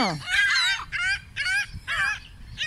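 Pigeons make loud, repeated calls up close, several bursts in a row with short gaps, while the birds wait hungry to be fed.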